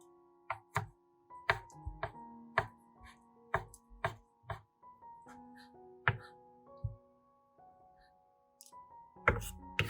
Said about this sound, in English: Prepare some green onions, chop them finely.